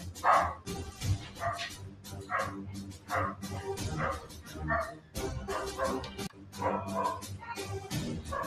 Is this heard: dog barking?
yes